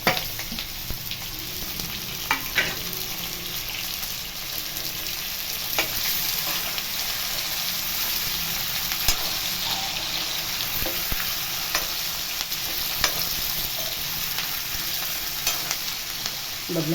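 Masala-coated brinjals sizzle and crackle steadily in hot oil, a continuous close frying hiss with scattered pops and occasional stirring clatter.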